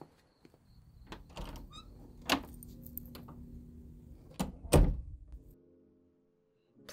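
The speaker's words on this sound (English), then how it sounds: "let me get the door real quick" Someone opening the front door of a house on arrival, with quiet clicks, a handle rattle and a couple of firm thunks heard close up with no talking.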